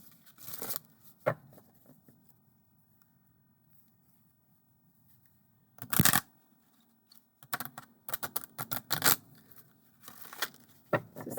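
Oracle cards being side shuffled by hand, heard as faint, close bursts of papery riffling and taps that come in uneven clusters separated by quiet pauses.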